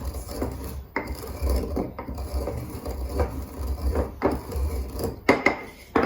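Cumin seeds are crushed by hand while chicken wings are being marinated, giving a steady close grinding and rasping crunch with repeated short scraping strokes and no talking.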